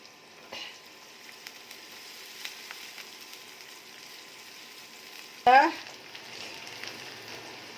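Layer chicken cooking with taro in a pan, a faint low sizzle throughout, broken by one sharp metallic clang of a spoon against the pan.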